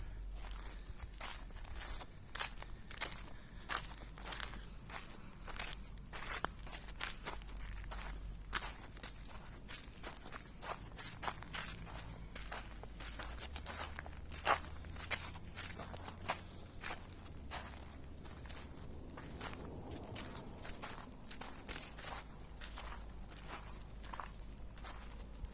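Steady footsteps crunch on a dry desert trail at Valley of Fire in Nevada, a quiet, regular rhythm of close steps on gritty ground with a low wind rumble underneath.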